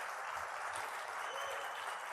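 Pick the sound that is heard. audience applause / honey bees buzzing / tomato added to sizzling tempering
audience applause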